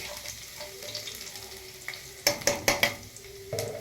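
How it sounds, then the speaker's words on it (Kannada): Garlic fries in oil for a rasam tempering with a soft, steady sizzle, broken by a quick run of metallic spoon clanks against the pan midway. "ಬೆಳ್ಳುಳ್ಳಿ ಸ್ವಲ್ಪ ಫ್ರೈ ಆಗಲಿ"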